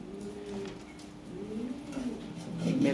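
Lahori Sherazi pigeons coo in a low, throaty way, including a breeding pair with red beaks. Soft repeated coos rise and fall nearby over faint background noise.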